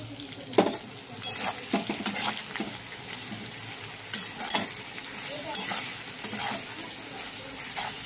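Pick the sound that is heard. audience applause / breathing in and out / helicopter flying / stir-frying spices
stir-frying spices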